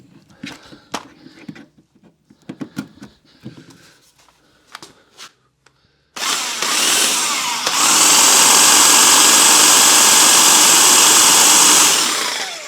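An electric hedge trimmer runs off a Bluetti AC200Max portable power station. Some faint handling clicks and knocks come first, then the trimmer starts with a loud, steady, high buzzing whir that holds for several seconds.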